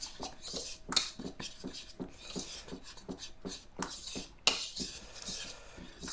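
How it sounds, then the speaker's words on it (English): A utensil scrapes and clinks rhythmically against a bowl while salt is mixed into banana bread batter, steady repeated strokes with a few sharper knocks, close and alone without talk. "4 teaspoons salt. And I'll mix that around."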